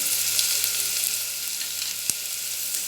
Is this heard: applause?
no